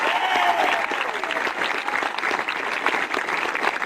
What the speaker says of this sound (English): Can we have another round of applause for my friend Catherine for an absolutely awesome